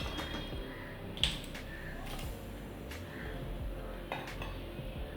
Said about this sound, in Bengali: কড়াইটা বসালাম।